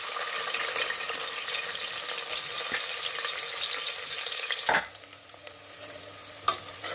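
Shahi jeera, cinnamon, cloves, cardamom and onions fry in hot oil for a mutton curry, a steady broadband sizzle with stirring scrapes, cutting off sharply near the end to quieter pan clinks.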